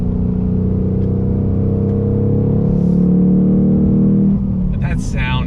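A 2021 Ford Mustang Mach 1 V8 with 4.5-inch exhaust pipes and a Tremec manual gearbox drones loudly and steadily from close by, the note swelling slightly before dropping off near the end.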